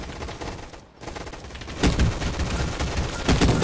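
Gunfire in the Roblox game Gunfight Arena, dense bursts of rapid automatic shots that swell loud in the second half after a brief lull, with no talking.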